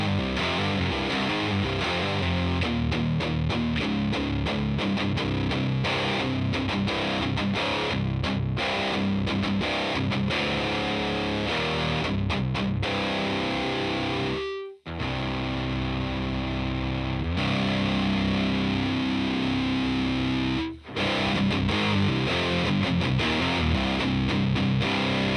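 Heavily distorted electric guitar through a Fender Hot Rod amp, dense chugging riffs and sustained chords played loud and continuously, with two brief stops in the playing.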